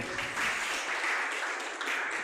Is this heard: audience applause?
yes